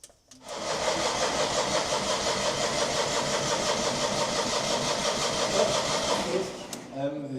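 A Panhard car engine cranks continuously as it tries to start, a steady churning mechanical whir close by that runs several seconds before stopping abruptly, with people speaking around it.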